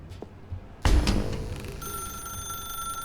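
A telephone rings in a dark room in the video game The Stanley Parable Ultra Deluxe. A heavy thud comes first, then a bright, sustained electronic ring sounds over a fading low rumble, with no talking.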